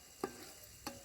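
Food sautés in a pan for chicken biryani, two brief scraping stirs standing out over a faint sizzle, no talking.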